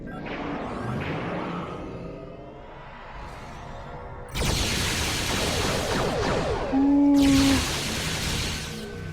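Starship cannon fire in Star Trek Online erupts in two loud sustained bursts of crackling, blasting noise, with quieter swooshing space-combat effects between them and no talk.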